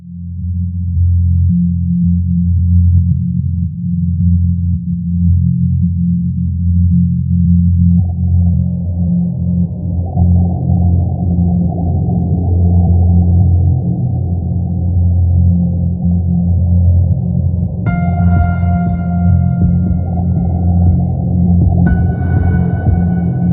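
Eerie boiler room ambience: a deep, steady low hum with ringing tonal layers that swell partway through, joined later by higher sonar-like pings, loud and continuous with no speech.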